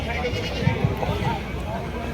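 Six-tooth goats bleat in short bursts amid a noisy crowd at a goat competition in Longowal, with people talking over them.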